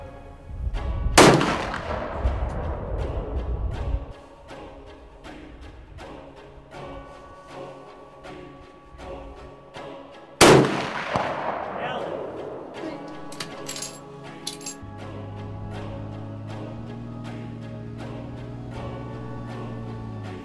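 Long-range rifles fire at a shooting range, two loud, sharp cracks about nine seconds apart, each trailing a ringing echo. Quieter clinks and a steady low hum fill the gaps between them.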